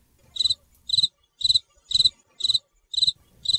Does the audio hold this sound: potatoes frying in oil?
no